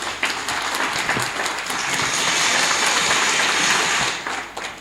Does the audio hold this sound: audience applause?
yes